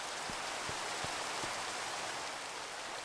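Rain falls in Minecraft, a steady, even hiss of droplets filling the background, with a few soft low thumps early on and no talking.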